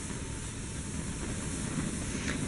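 Hero's engine, a steam-propelled rotor in a physics demonstration, spinning steadily with a continuous broadband hiss and low whirring rumble throughout, fairly close and without talk.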